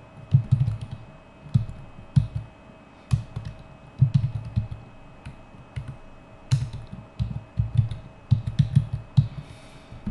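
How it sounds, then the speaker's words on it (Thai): Computer keyboard typing while entering a title in video-editing software: bursts of quick key clicks come in short clusters with pauses between them, steady and close, with no voices. "พิมพ์ตัวหนังสือเข้าไปได้เลย"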